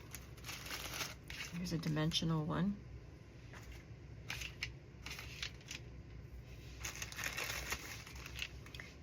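Butterfly appliqués, including lace ones, rustle and crinkle in a plastic bag with close, intermittent crackling bursts while someone talks over the handling.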